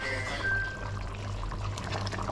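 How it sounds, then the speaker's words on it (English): Ketchup is poured onto brown stew chicken cooking in a pot, a short wet squirting pour over a low background hum, close and fairly quiet. "I'll throw some ketchup on the chicken now."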